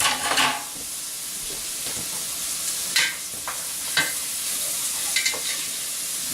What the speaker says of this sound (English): I'm just going to let these vegetables cook down for a little bit and get nice and tender.